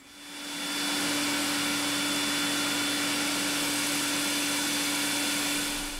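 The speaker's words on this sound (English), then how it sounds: "the reason I have a vacuum cleaner going there is because I want to be able to see the brass tube" A vacuum cleaner runs steadily and loudly as a brass pen tube is cut, giving a constant broadband whoosh with a steady motor hum that swells in at the start and holds level throughout, with no talking.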